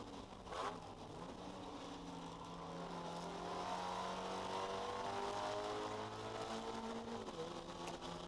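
Spec Miata race car engines drone and rev from inside a Mazda Miata on track at Carolina Motorsports Park, pitch climbing and falling as it accelerates through gears, fairly faint overall.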